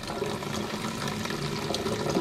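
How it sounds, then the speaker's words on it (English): Water from a tap runs steadily onto a scrubbing pad about to be used with Fairy washing-up liquid to clean a shoe upper, a continuous close splashing flow with no talking. "I'm going to wet it slightly"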